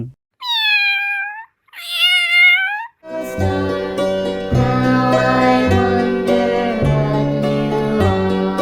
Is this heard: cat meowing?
yes